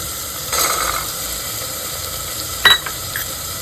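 Vegetables being sautéed in a pan for veg shahi biryani, a steady soft sizzle with a few scraping stirs and a brief clatter near the end, close by with no talk.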